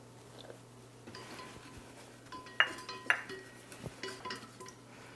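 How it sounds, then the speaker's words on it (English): Whisk clinking against a metal pan while cassava flour is stirred into shallot-infused ghee for a roux, a few sharp metallic taps and scraping strokes, close and fairly quiet. "we're gonna go ahead and whisk in some cassava flour to make our roux"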